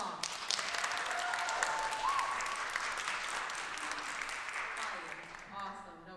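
Audience applause at a storytelling event, a continuous wash of clapping at moderate loudness with a voice speaking over it, tapering off toward the end.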